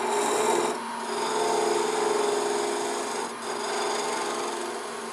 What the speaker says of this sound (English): A little bit of sandpaper will clean it up.